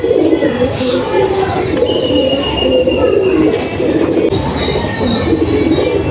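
Madras pigeons coo in low, steady murmurs over a constant busy background hum, with a faint voice now and then.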